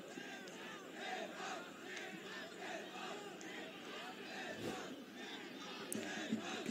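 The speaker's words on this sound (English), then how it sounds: "USA chants now pouring out" Stadium crowd at a Nepal versus USA cricket match chanting and roaring continuously, a dense rhythmic mass of voices at moderate distance with no pause.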